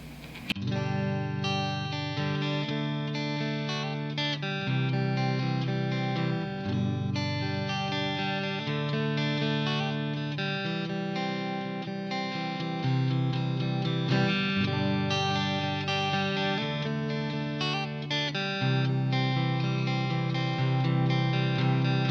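A clean electric guitar on the neck pickup with coil split plays steady chords and picked notes, warm and close, continuous with no talking.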